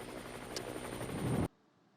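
A helicopter filming the Volvo Ocean Race leg start at Cardiff, Wales, its rotor chop and engine whine beating steadily and loud for a second and a half before cutting off abruptly.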